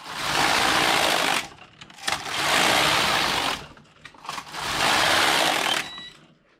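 A Passap DM80/E6000 knitting machine runs its carriage across one row in three loud, steady mechanical rasping passes, each lasting a second or two and separated by short pauses and small clicks.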